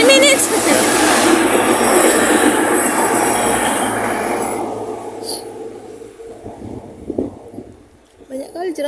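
A train passing through a station, its rumble and screeching wheels loud and close at first, then fading away, with people talking nearby.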